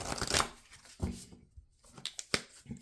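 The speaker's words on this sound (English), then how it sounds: "let's do a little quickie shuffle." Tarot cards are shuffled in a few quick, papery riffles and taps, close by, with a brief pause in the middle.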